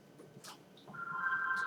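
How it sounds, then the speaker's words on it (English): A mobile phone starts ringing with a steady electronic tone that rises and holds, heard indoors behind a quiet classroom-style maths lesson. "that's my phone"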